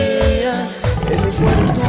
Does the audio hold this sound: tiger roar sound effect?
yes